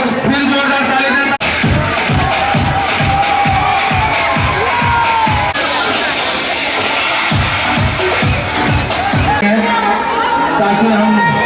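A crowd at a school exhibition fair claps loudly, with a strong burst of rhythmic, unison clapping amid cheering and chatter, stopping briefly and then resuming with more scattered applause.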